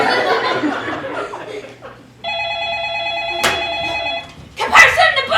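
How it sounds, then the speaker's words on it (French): A telephone rings with a sustained electronic trill during a stage play set in a restaurant, preceded and followed by laughter and voices from the audience. "Téléphone, vous pouvez répondre."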